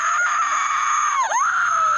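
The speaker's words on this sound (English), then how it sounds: "Her screams are pretty decent though." A woman screams in a Rob Zombie Halloween movie scene, one loud, sustained, piercing shriek that briefly dips and wavers before carrying on, with no talking.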